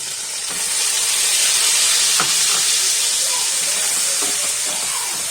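Whole cardamom, cloves and cinnamon sizzle in hot oil with a loud, steady hiss, a few faint clinks and crackles breaking through the frying noise.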